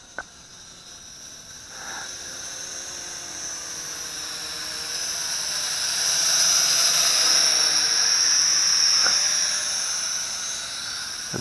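An XK Alien X250 drone flying outdoors at night, a steady high-pitched whining buzz of its rotors that swells louder as it draws nearer around the middle, then eases slightly, with a couple of faint clicks.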